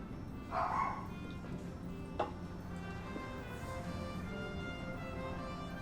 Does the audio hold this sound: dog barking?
yes